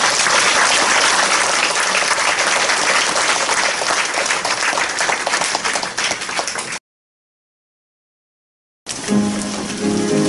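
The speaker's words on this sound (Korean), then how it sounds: "우리 졸업생들 힘차게 박수 한번" Graduates applaud at a seminary degree and graduation ceremony, loud dense clapping filling a large hall for several seconds before a brief silence, then another burst of sound.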